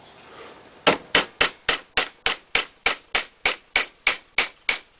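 A small hammer strikes a metal pendant in a steady rhythm of about fifteen crisp, ringing blows, roughly three each second. The blows are close and loud over a faint high whine, with no speech.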